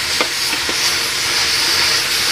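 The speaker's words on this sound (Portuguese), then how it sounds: "E agora já tá fritando, né? Ó, agora já começou a fritar." A free-range chicken frying in a covered pot on a wood-burning stove gives a steady, close sizzling hiss, with a few faint crackles near the start and no voices.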